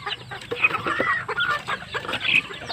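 Several native chickens cluck and squawk close by in irregular bursts, a busy overlapping chatter of fowl.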